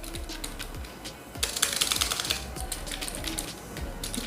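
Keys clatter rapidly and close up as someone types on a laptop keyboard, giving a dense, continuous patter of clicks that gets louder and busier midway, with no speech.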